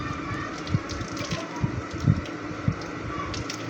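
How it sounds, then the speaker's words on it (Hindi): Water poured into spiced arvi (taro root) pakora batter with coriander powder and garam masala, a soft steady trickle with light splashy pulses and occasional stirring knocks, close and continuous with no talking. "तो अब इसमें पानी डाल के"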